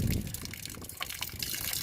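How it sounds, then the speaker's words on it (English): Water gushing and trickling steadily out of the hot and cold low point drains underneath an RV slide-out, a continuous splashing flow heard close with no talking. "there's going to be no air lock in it, and it's going to allow all that water to drain"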